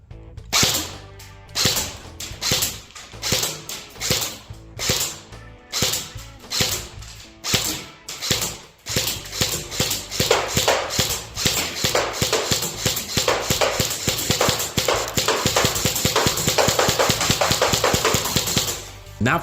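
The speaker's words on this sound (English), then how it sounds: "So first we're going to go for semi-automatic." A G&G CM16 MOD 0 airsoft rifle fires semi-automatic shots as a quick series of sharp, loud clicks and pops, slow and irregular at first and then coming faster and more steadily toward the end.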